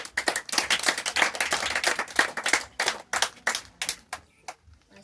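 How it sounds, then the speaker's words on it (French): Children clap together at a church evangelism gathering, with loud, fast, uneven rounds of applause that thin out and fade toward the end. "On acclame encore Jésus."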